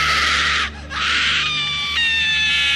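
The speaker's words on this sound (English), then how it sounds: "a voice began screaming, a long, keening squeal of pain." A woman screams in a long, keening squeal of pain, shrill and sustained at close range, dipping briefly before rising again into a steadier, tonal wail.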